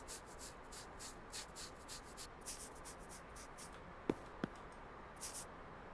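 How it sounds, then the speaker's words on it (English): A sander works over car bodywork in the video game Car Dealer Simulator, making faint rhythmic rubbing strokes, a dozen or so short swipes in a steady pattern, with a couple of small clicks near the end. "Don't hit the good bodywork with the sander."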